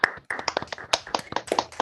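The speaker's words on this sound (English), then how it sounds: "So we can clap the hand." A small audience claps hands for about two seconds, a brief burst of sharp, uneven claps that starts loud, dips, then continues at close range with no talking.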